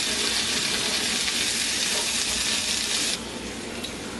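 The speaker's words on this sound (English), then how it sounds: "The onions, I've been stirring it for about a minute here." Chopped onions frying in hot oil in a pan, a steady close sizzle with scraping stir strokes, dropping to a softer hiss near the end, with no talking.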